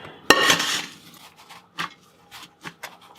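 Onions tumble into a pot holding beef tallow. A sharp metallic clank of a utensil against the pot is followed by a short scraping rattle, then several lighter scattered clinks and taps, close and otherwise quiet.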